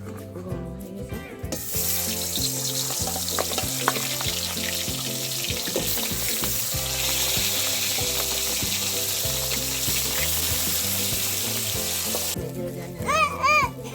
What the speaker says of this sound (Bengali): নুন হলুদ মাখানো হয়ে গেছে মাছে এবার মাছগুলো ভাজা হবে